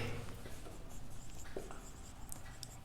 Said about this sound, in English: We have to write first matrix A.